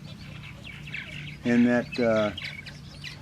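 Purple martins call at a gourd rack colony in Texas, scattered chirps with two louder harmonic calls close by, while someone talks briefly.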